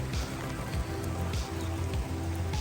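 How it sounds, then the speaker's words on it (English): Steady rain pattering on the ground and surfaces outdoors beside a Ford Mustang RTR, a dense continuous hiss with scattered closer drops and low rumbling underneath. "I know it's raining, but it's worth it."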